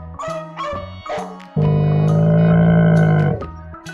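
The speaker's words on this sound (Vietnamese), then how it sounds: "Con chó." A dog gives a few short yaps, then one long, strained, processed-sounding bark or howl, loud over a rhythmic music track.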